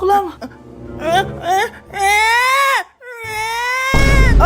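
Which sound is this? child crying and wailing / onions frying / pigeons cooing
child crying and wailing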